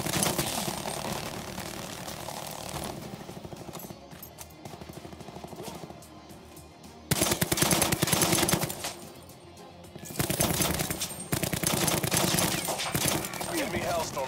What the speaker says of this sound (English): Sentry firing.